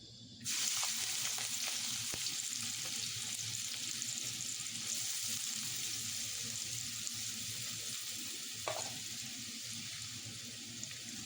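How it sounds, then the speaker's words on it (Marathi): Chopped onion dropped into hot oil in a pot, with a sudden burst of sizzling that settles into a loud, steady, close fry. Occasional stirring clinks sound over it, and no one speaks. "तेल गरम झाल्यावर कापलेला कांदा त्यात ॲड केला।"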